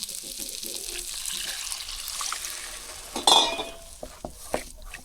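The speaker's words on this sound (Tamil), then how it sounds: "இப்போ தேவையான அளவு வந்து நம்ம தண்ணி ஊற்றிக்கலாம்" Water pours and splashes into a pan of egg gravy, followed by a few clinks of metal utensils against the cookware.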